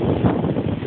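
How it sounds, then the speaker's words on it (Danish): Strong wind gusts buffet the microphone on a mountain hike near Fitz Roy, a loud continuous roaring rush with no voices, filling the whole moment. "Det blæser også temmelig meget her"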